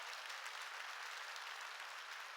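Applause from a church congregation during a sermon, a dense, steady wash of many hands clapping at moderate distance, continuous and even throughout without voices.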